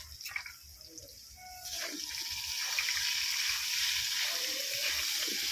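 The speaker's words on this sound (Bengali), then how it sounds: "নুন আর হলুদ দিয়ে আমি আলুটাকে একটু লালচে করে ভেজে নেব।" Potato pieces seasoned with salt and turmeric fry in a pan, a faint crackle at first that swells into a steady, close hiss of sizzling oil that lasts to the end, with no talking.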